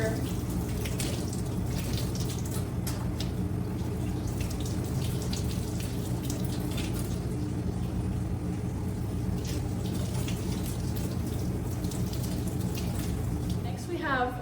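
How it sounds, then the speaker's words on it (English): Vegetables rinsed under cold running tap water in a kitchen, a steady, continuous splashing hiss of flowing water that lasts throughout, with a brief clatter near the end. "then just rinse them all under some cold water"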